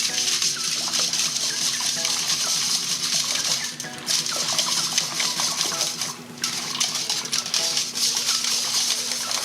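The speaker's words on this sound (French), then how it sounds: "avec un fouet on mélange tout ça." Marseille soap and soda crystals whisked into boiling water: continuous watery sloshing and splashing with rapid whisk strokes, close and moderately loud, briefly dropping twice.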